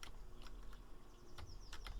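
Quick, light clicking of keys on a ZX Spectrum computer keyboard, a few irregular taps close up and fairly quiet, with no voices.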